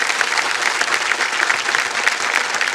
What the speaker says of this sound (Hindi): तो ताली बज जाए